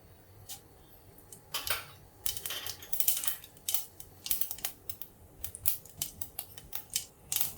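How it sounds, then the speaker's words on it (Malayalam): Mustard seeds splutter in hot oil in a pan, making a rapid, irregular run of sharp crackling pops that grows busier, close and fairly quiet, with no voices. "എണ്ണ ചൂടായിട്ടുണ്ട്. കടുക് ഇട്ട് കൊടുക്കാം."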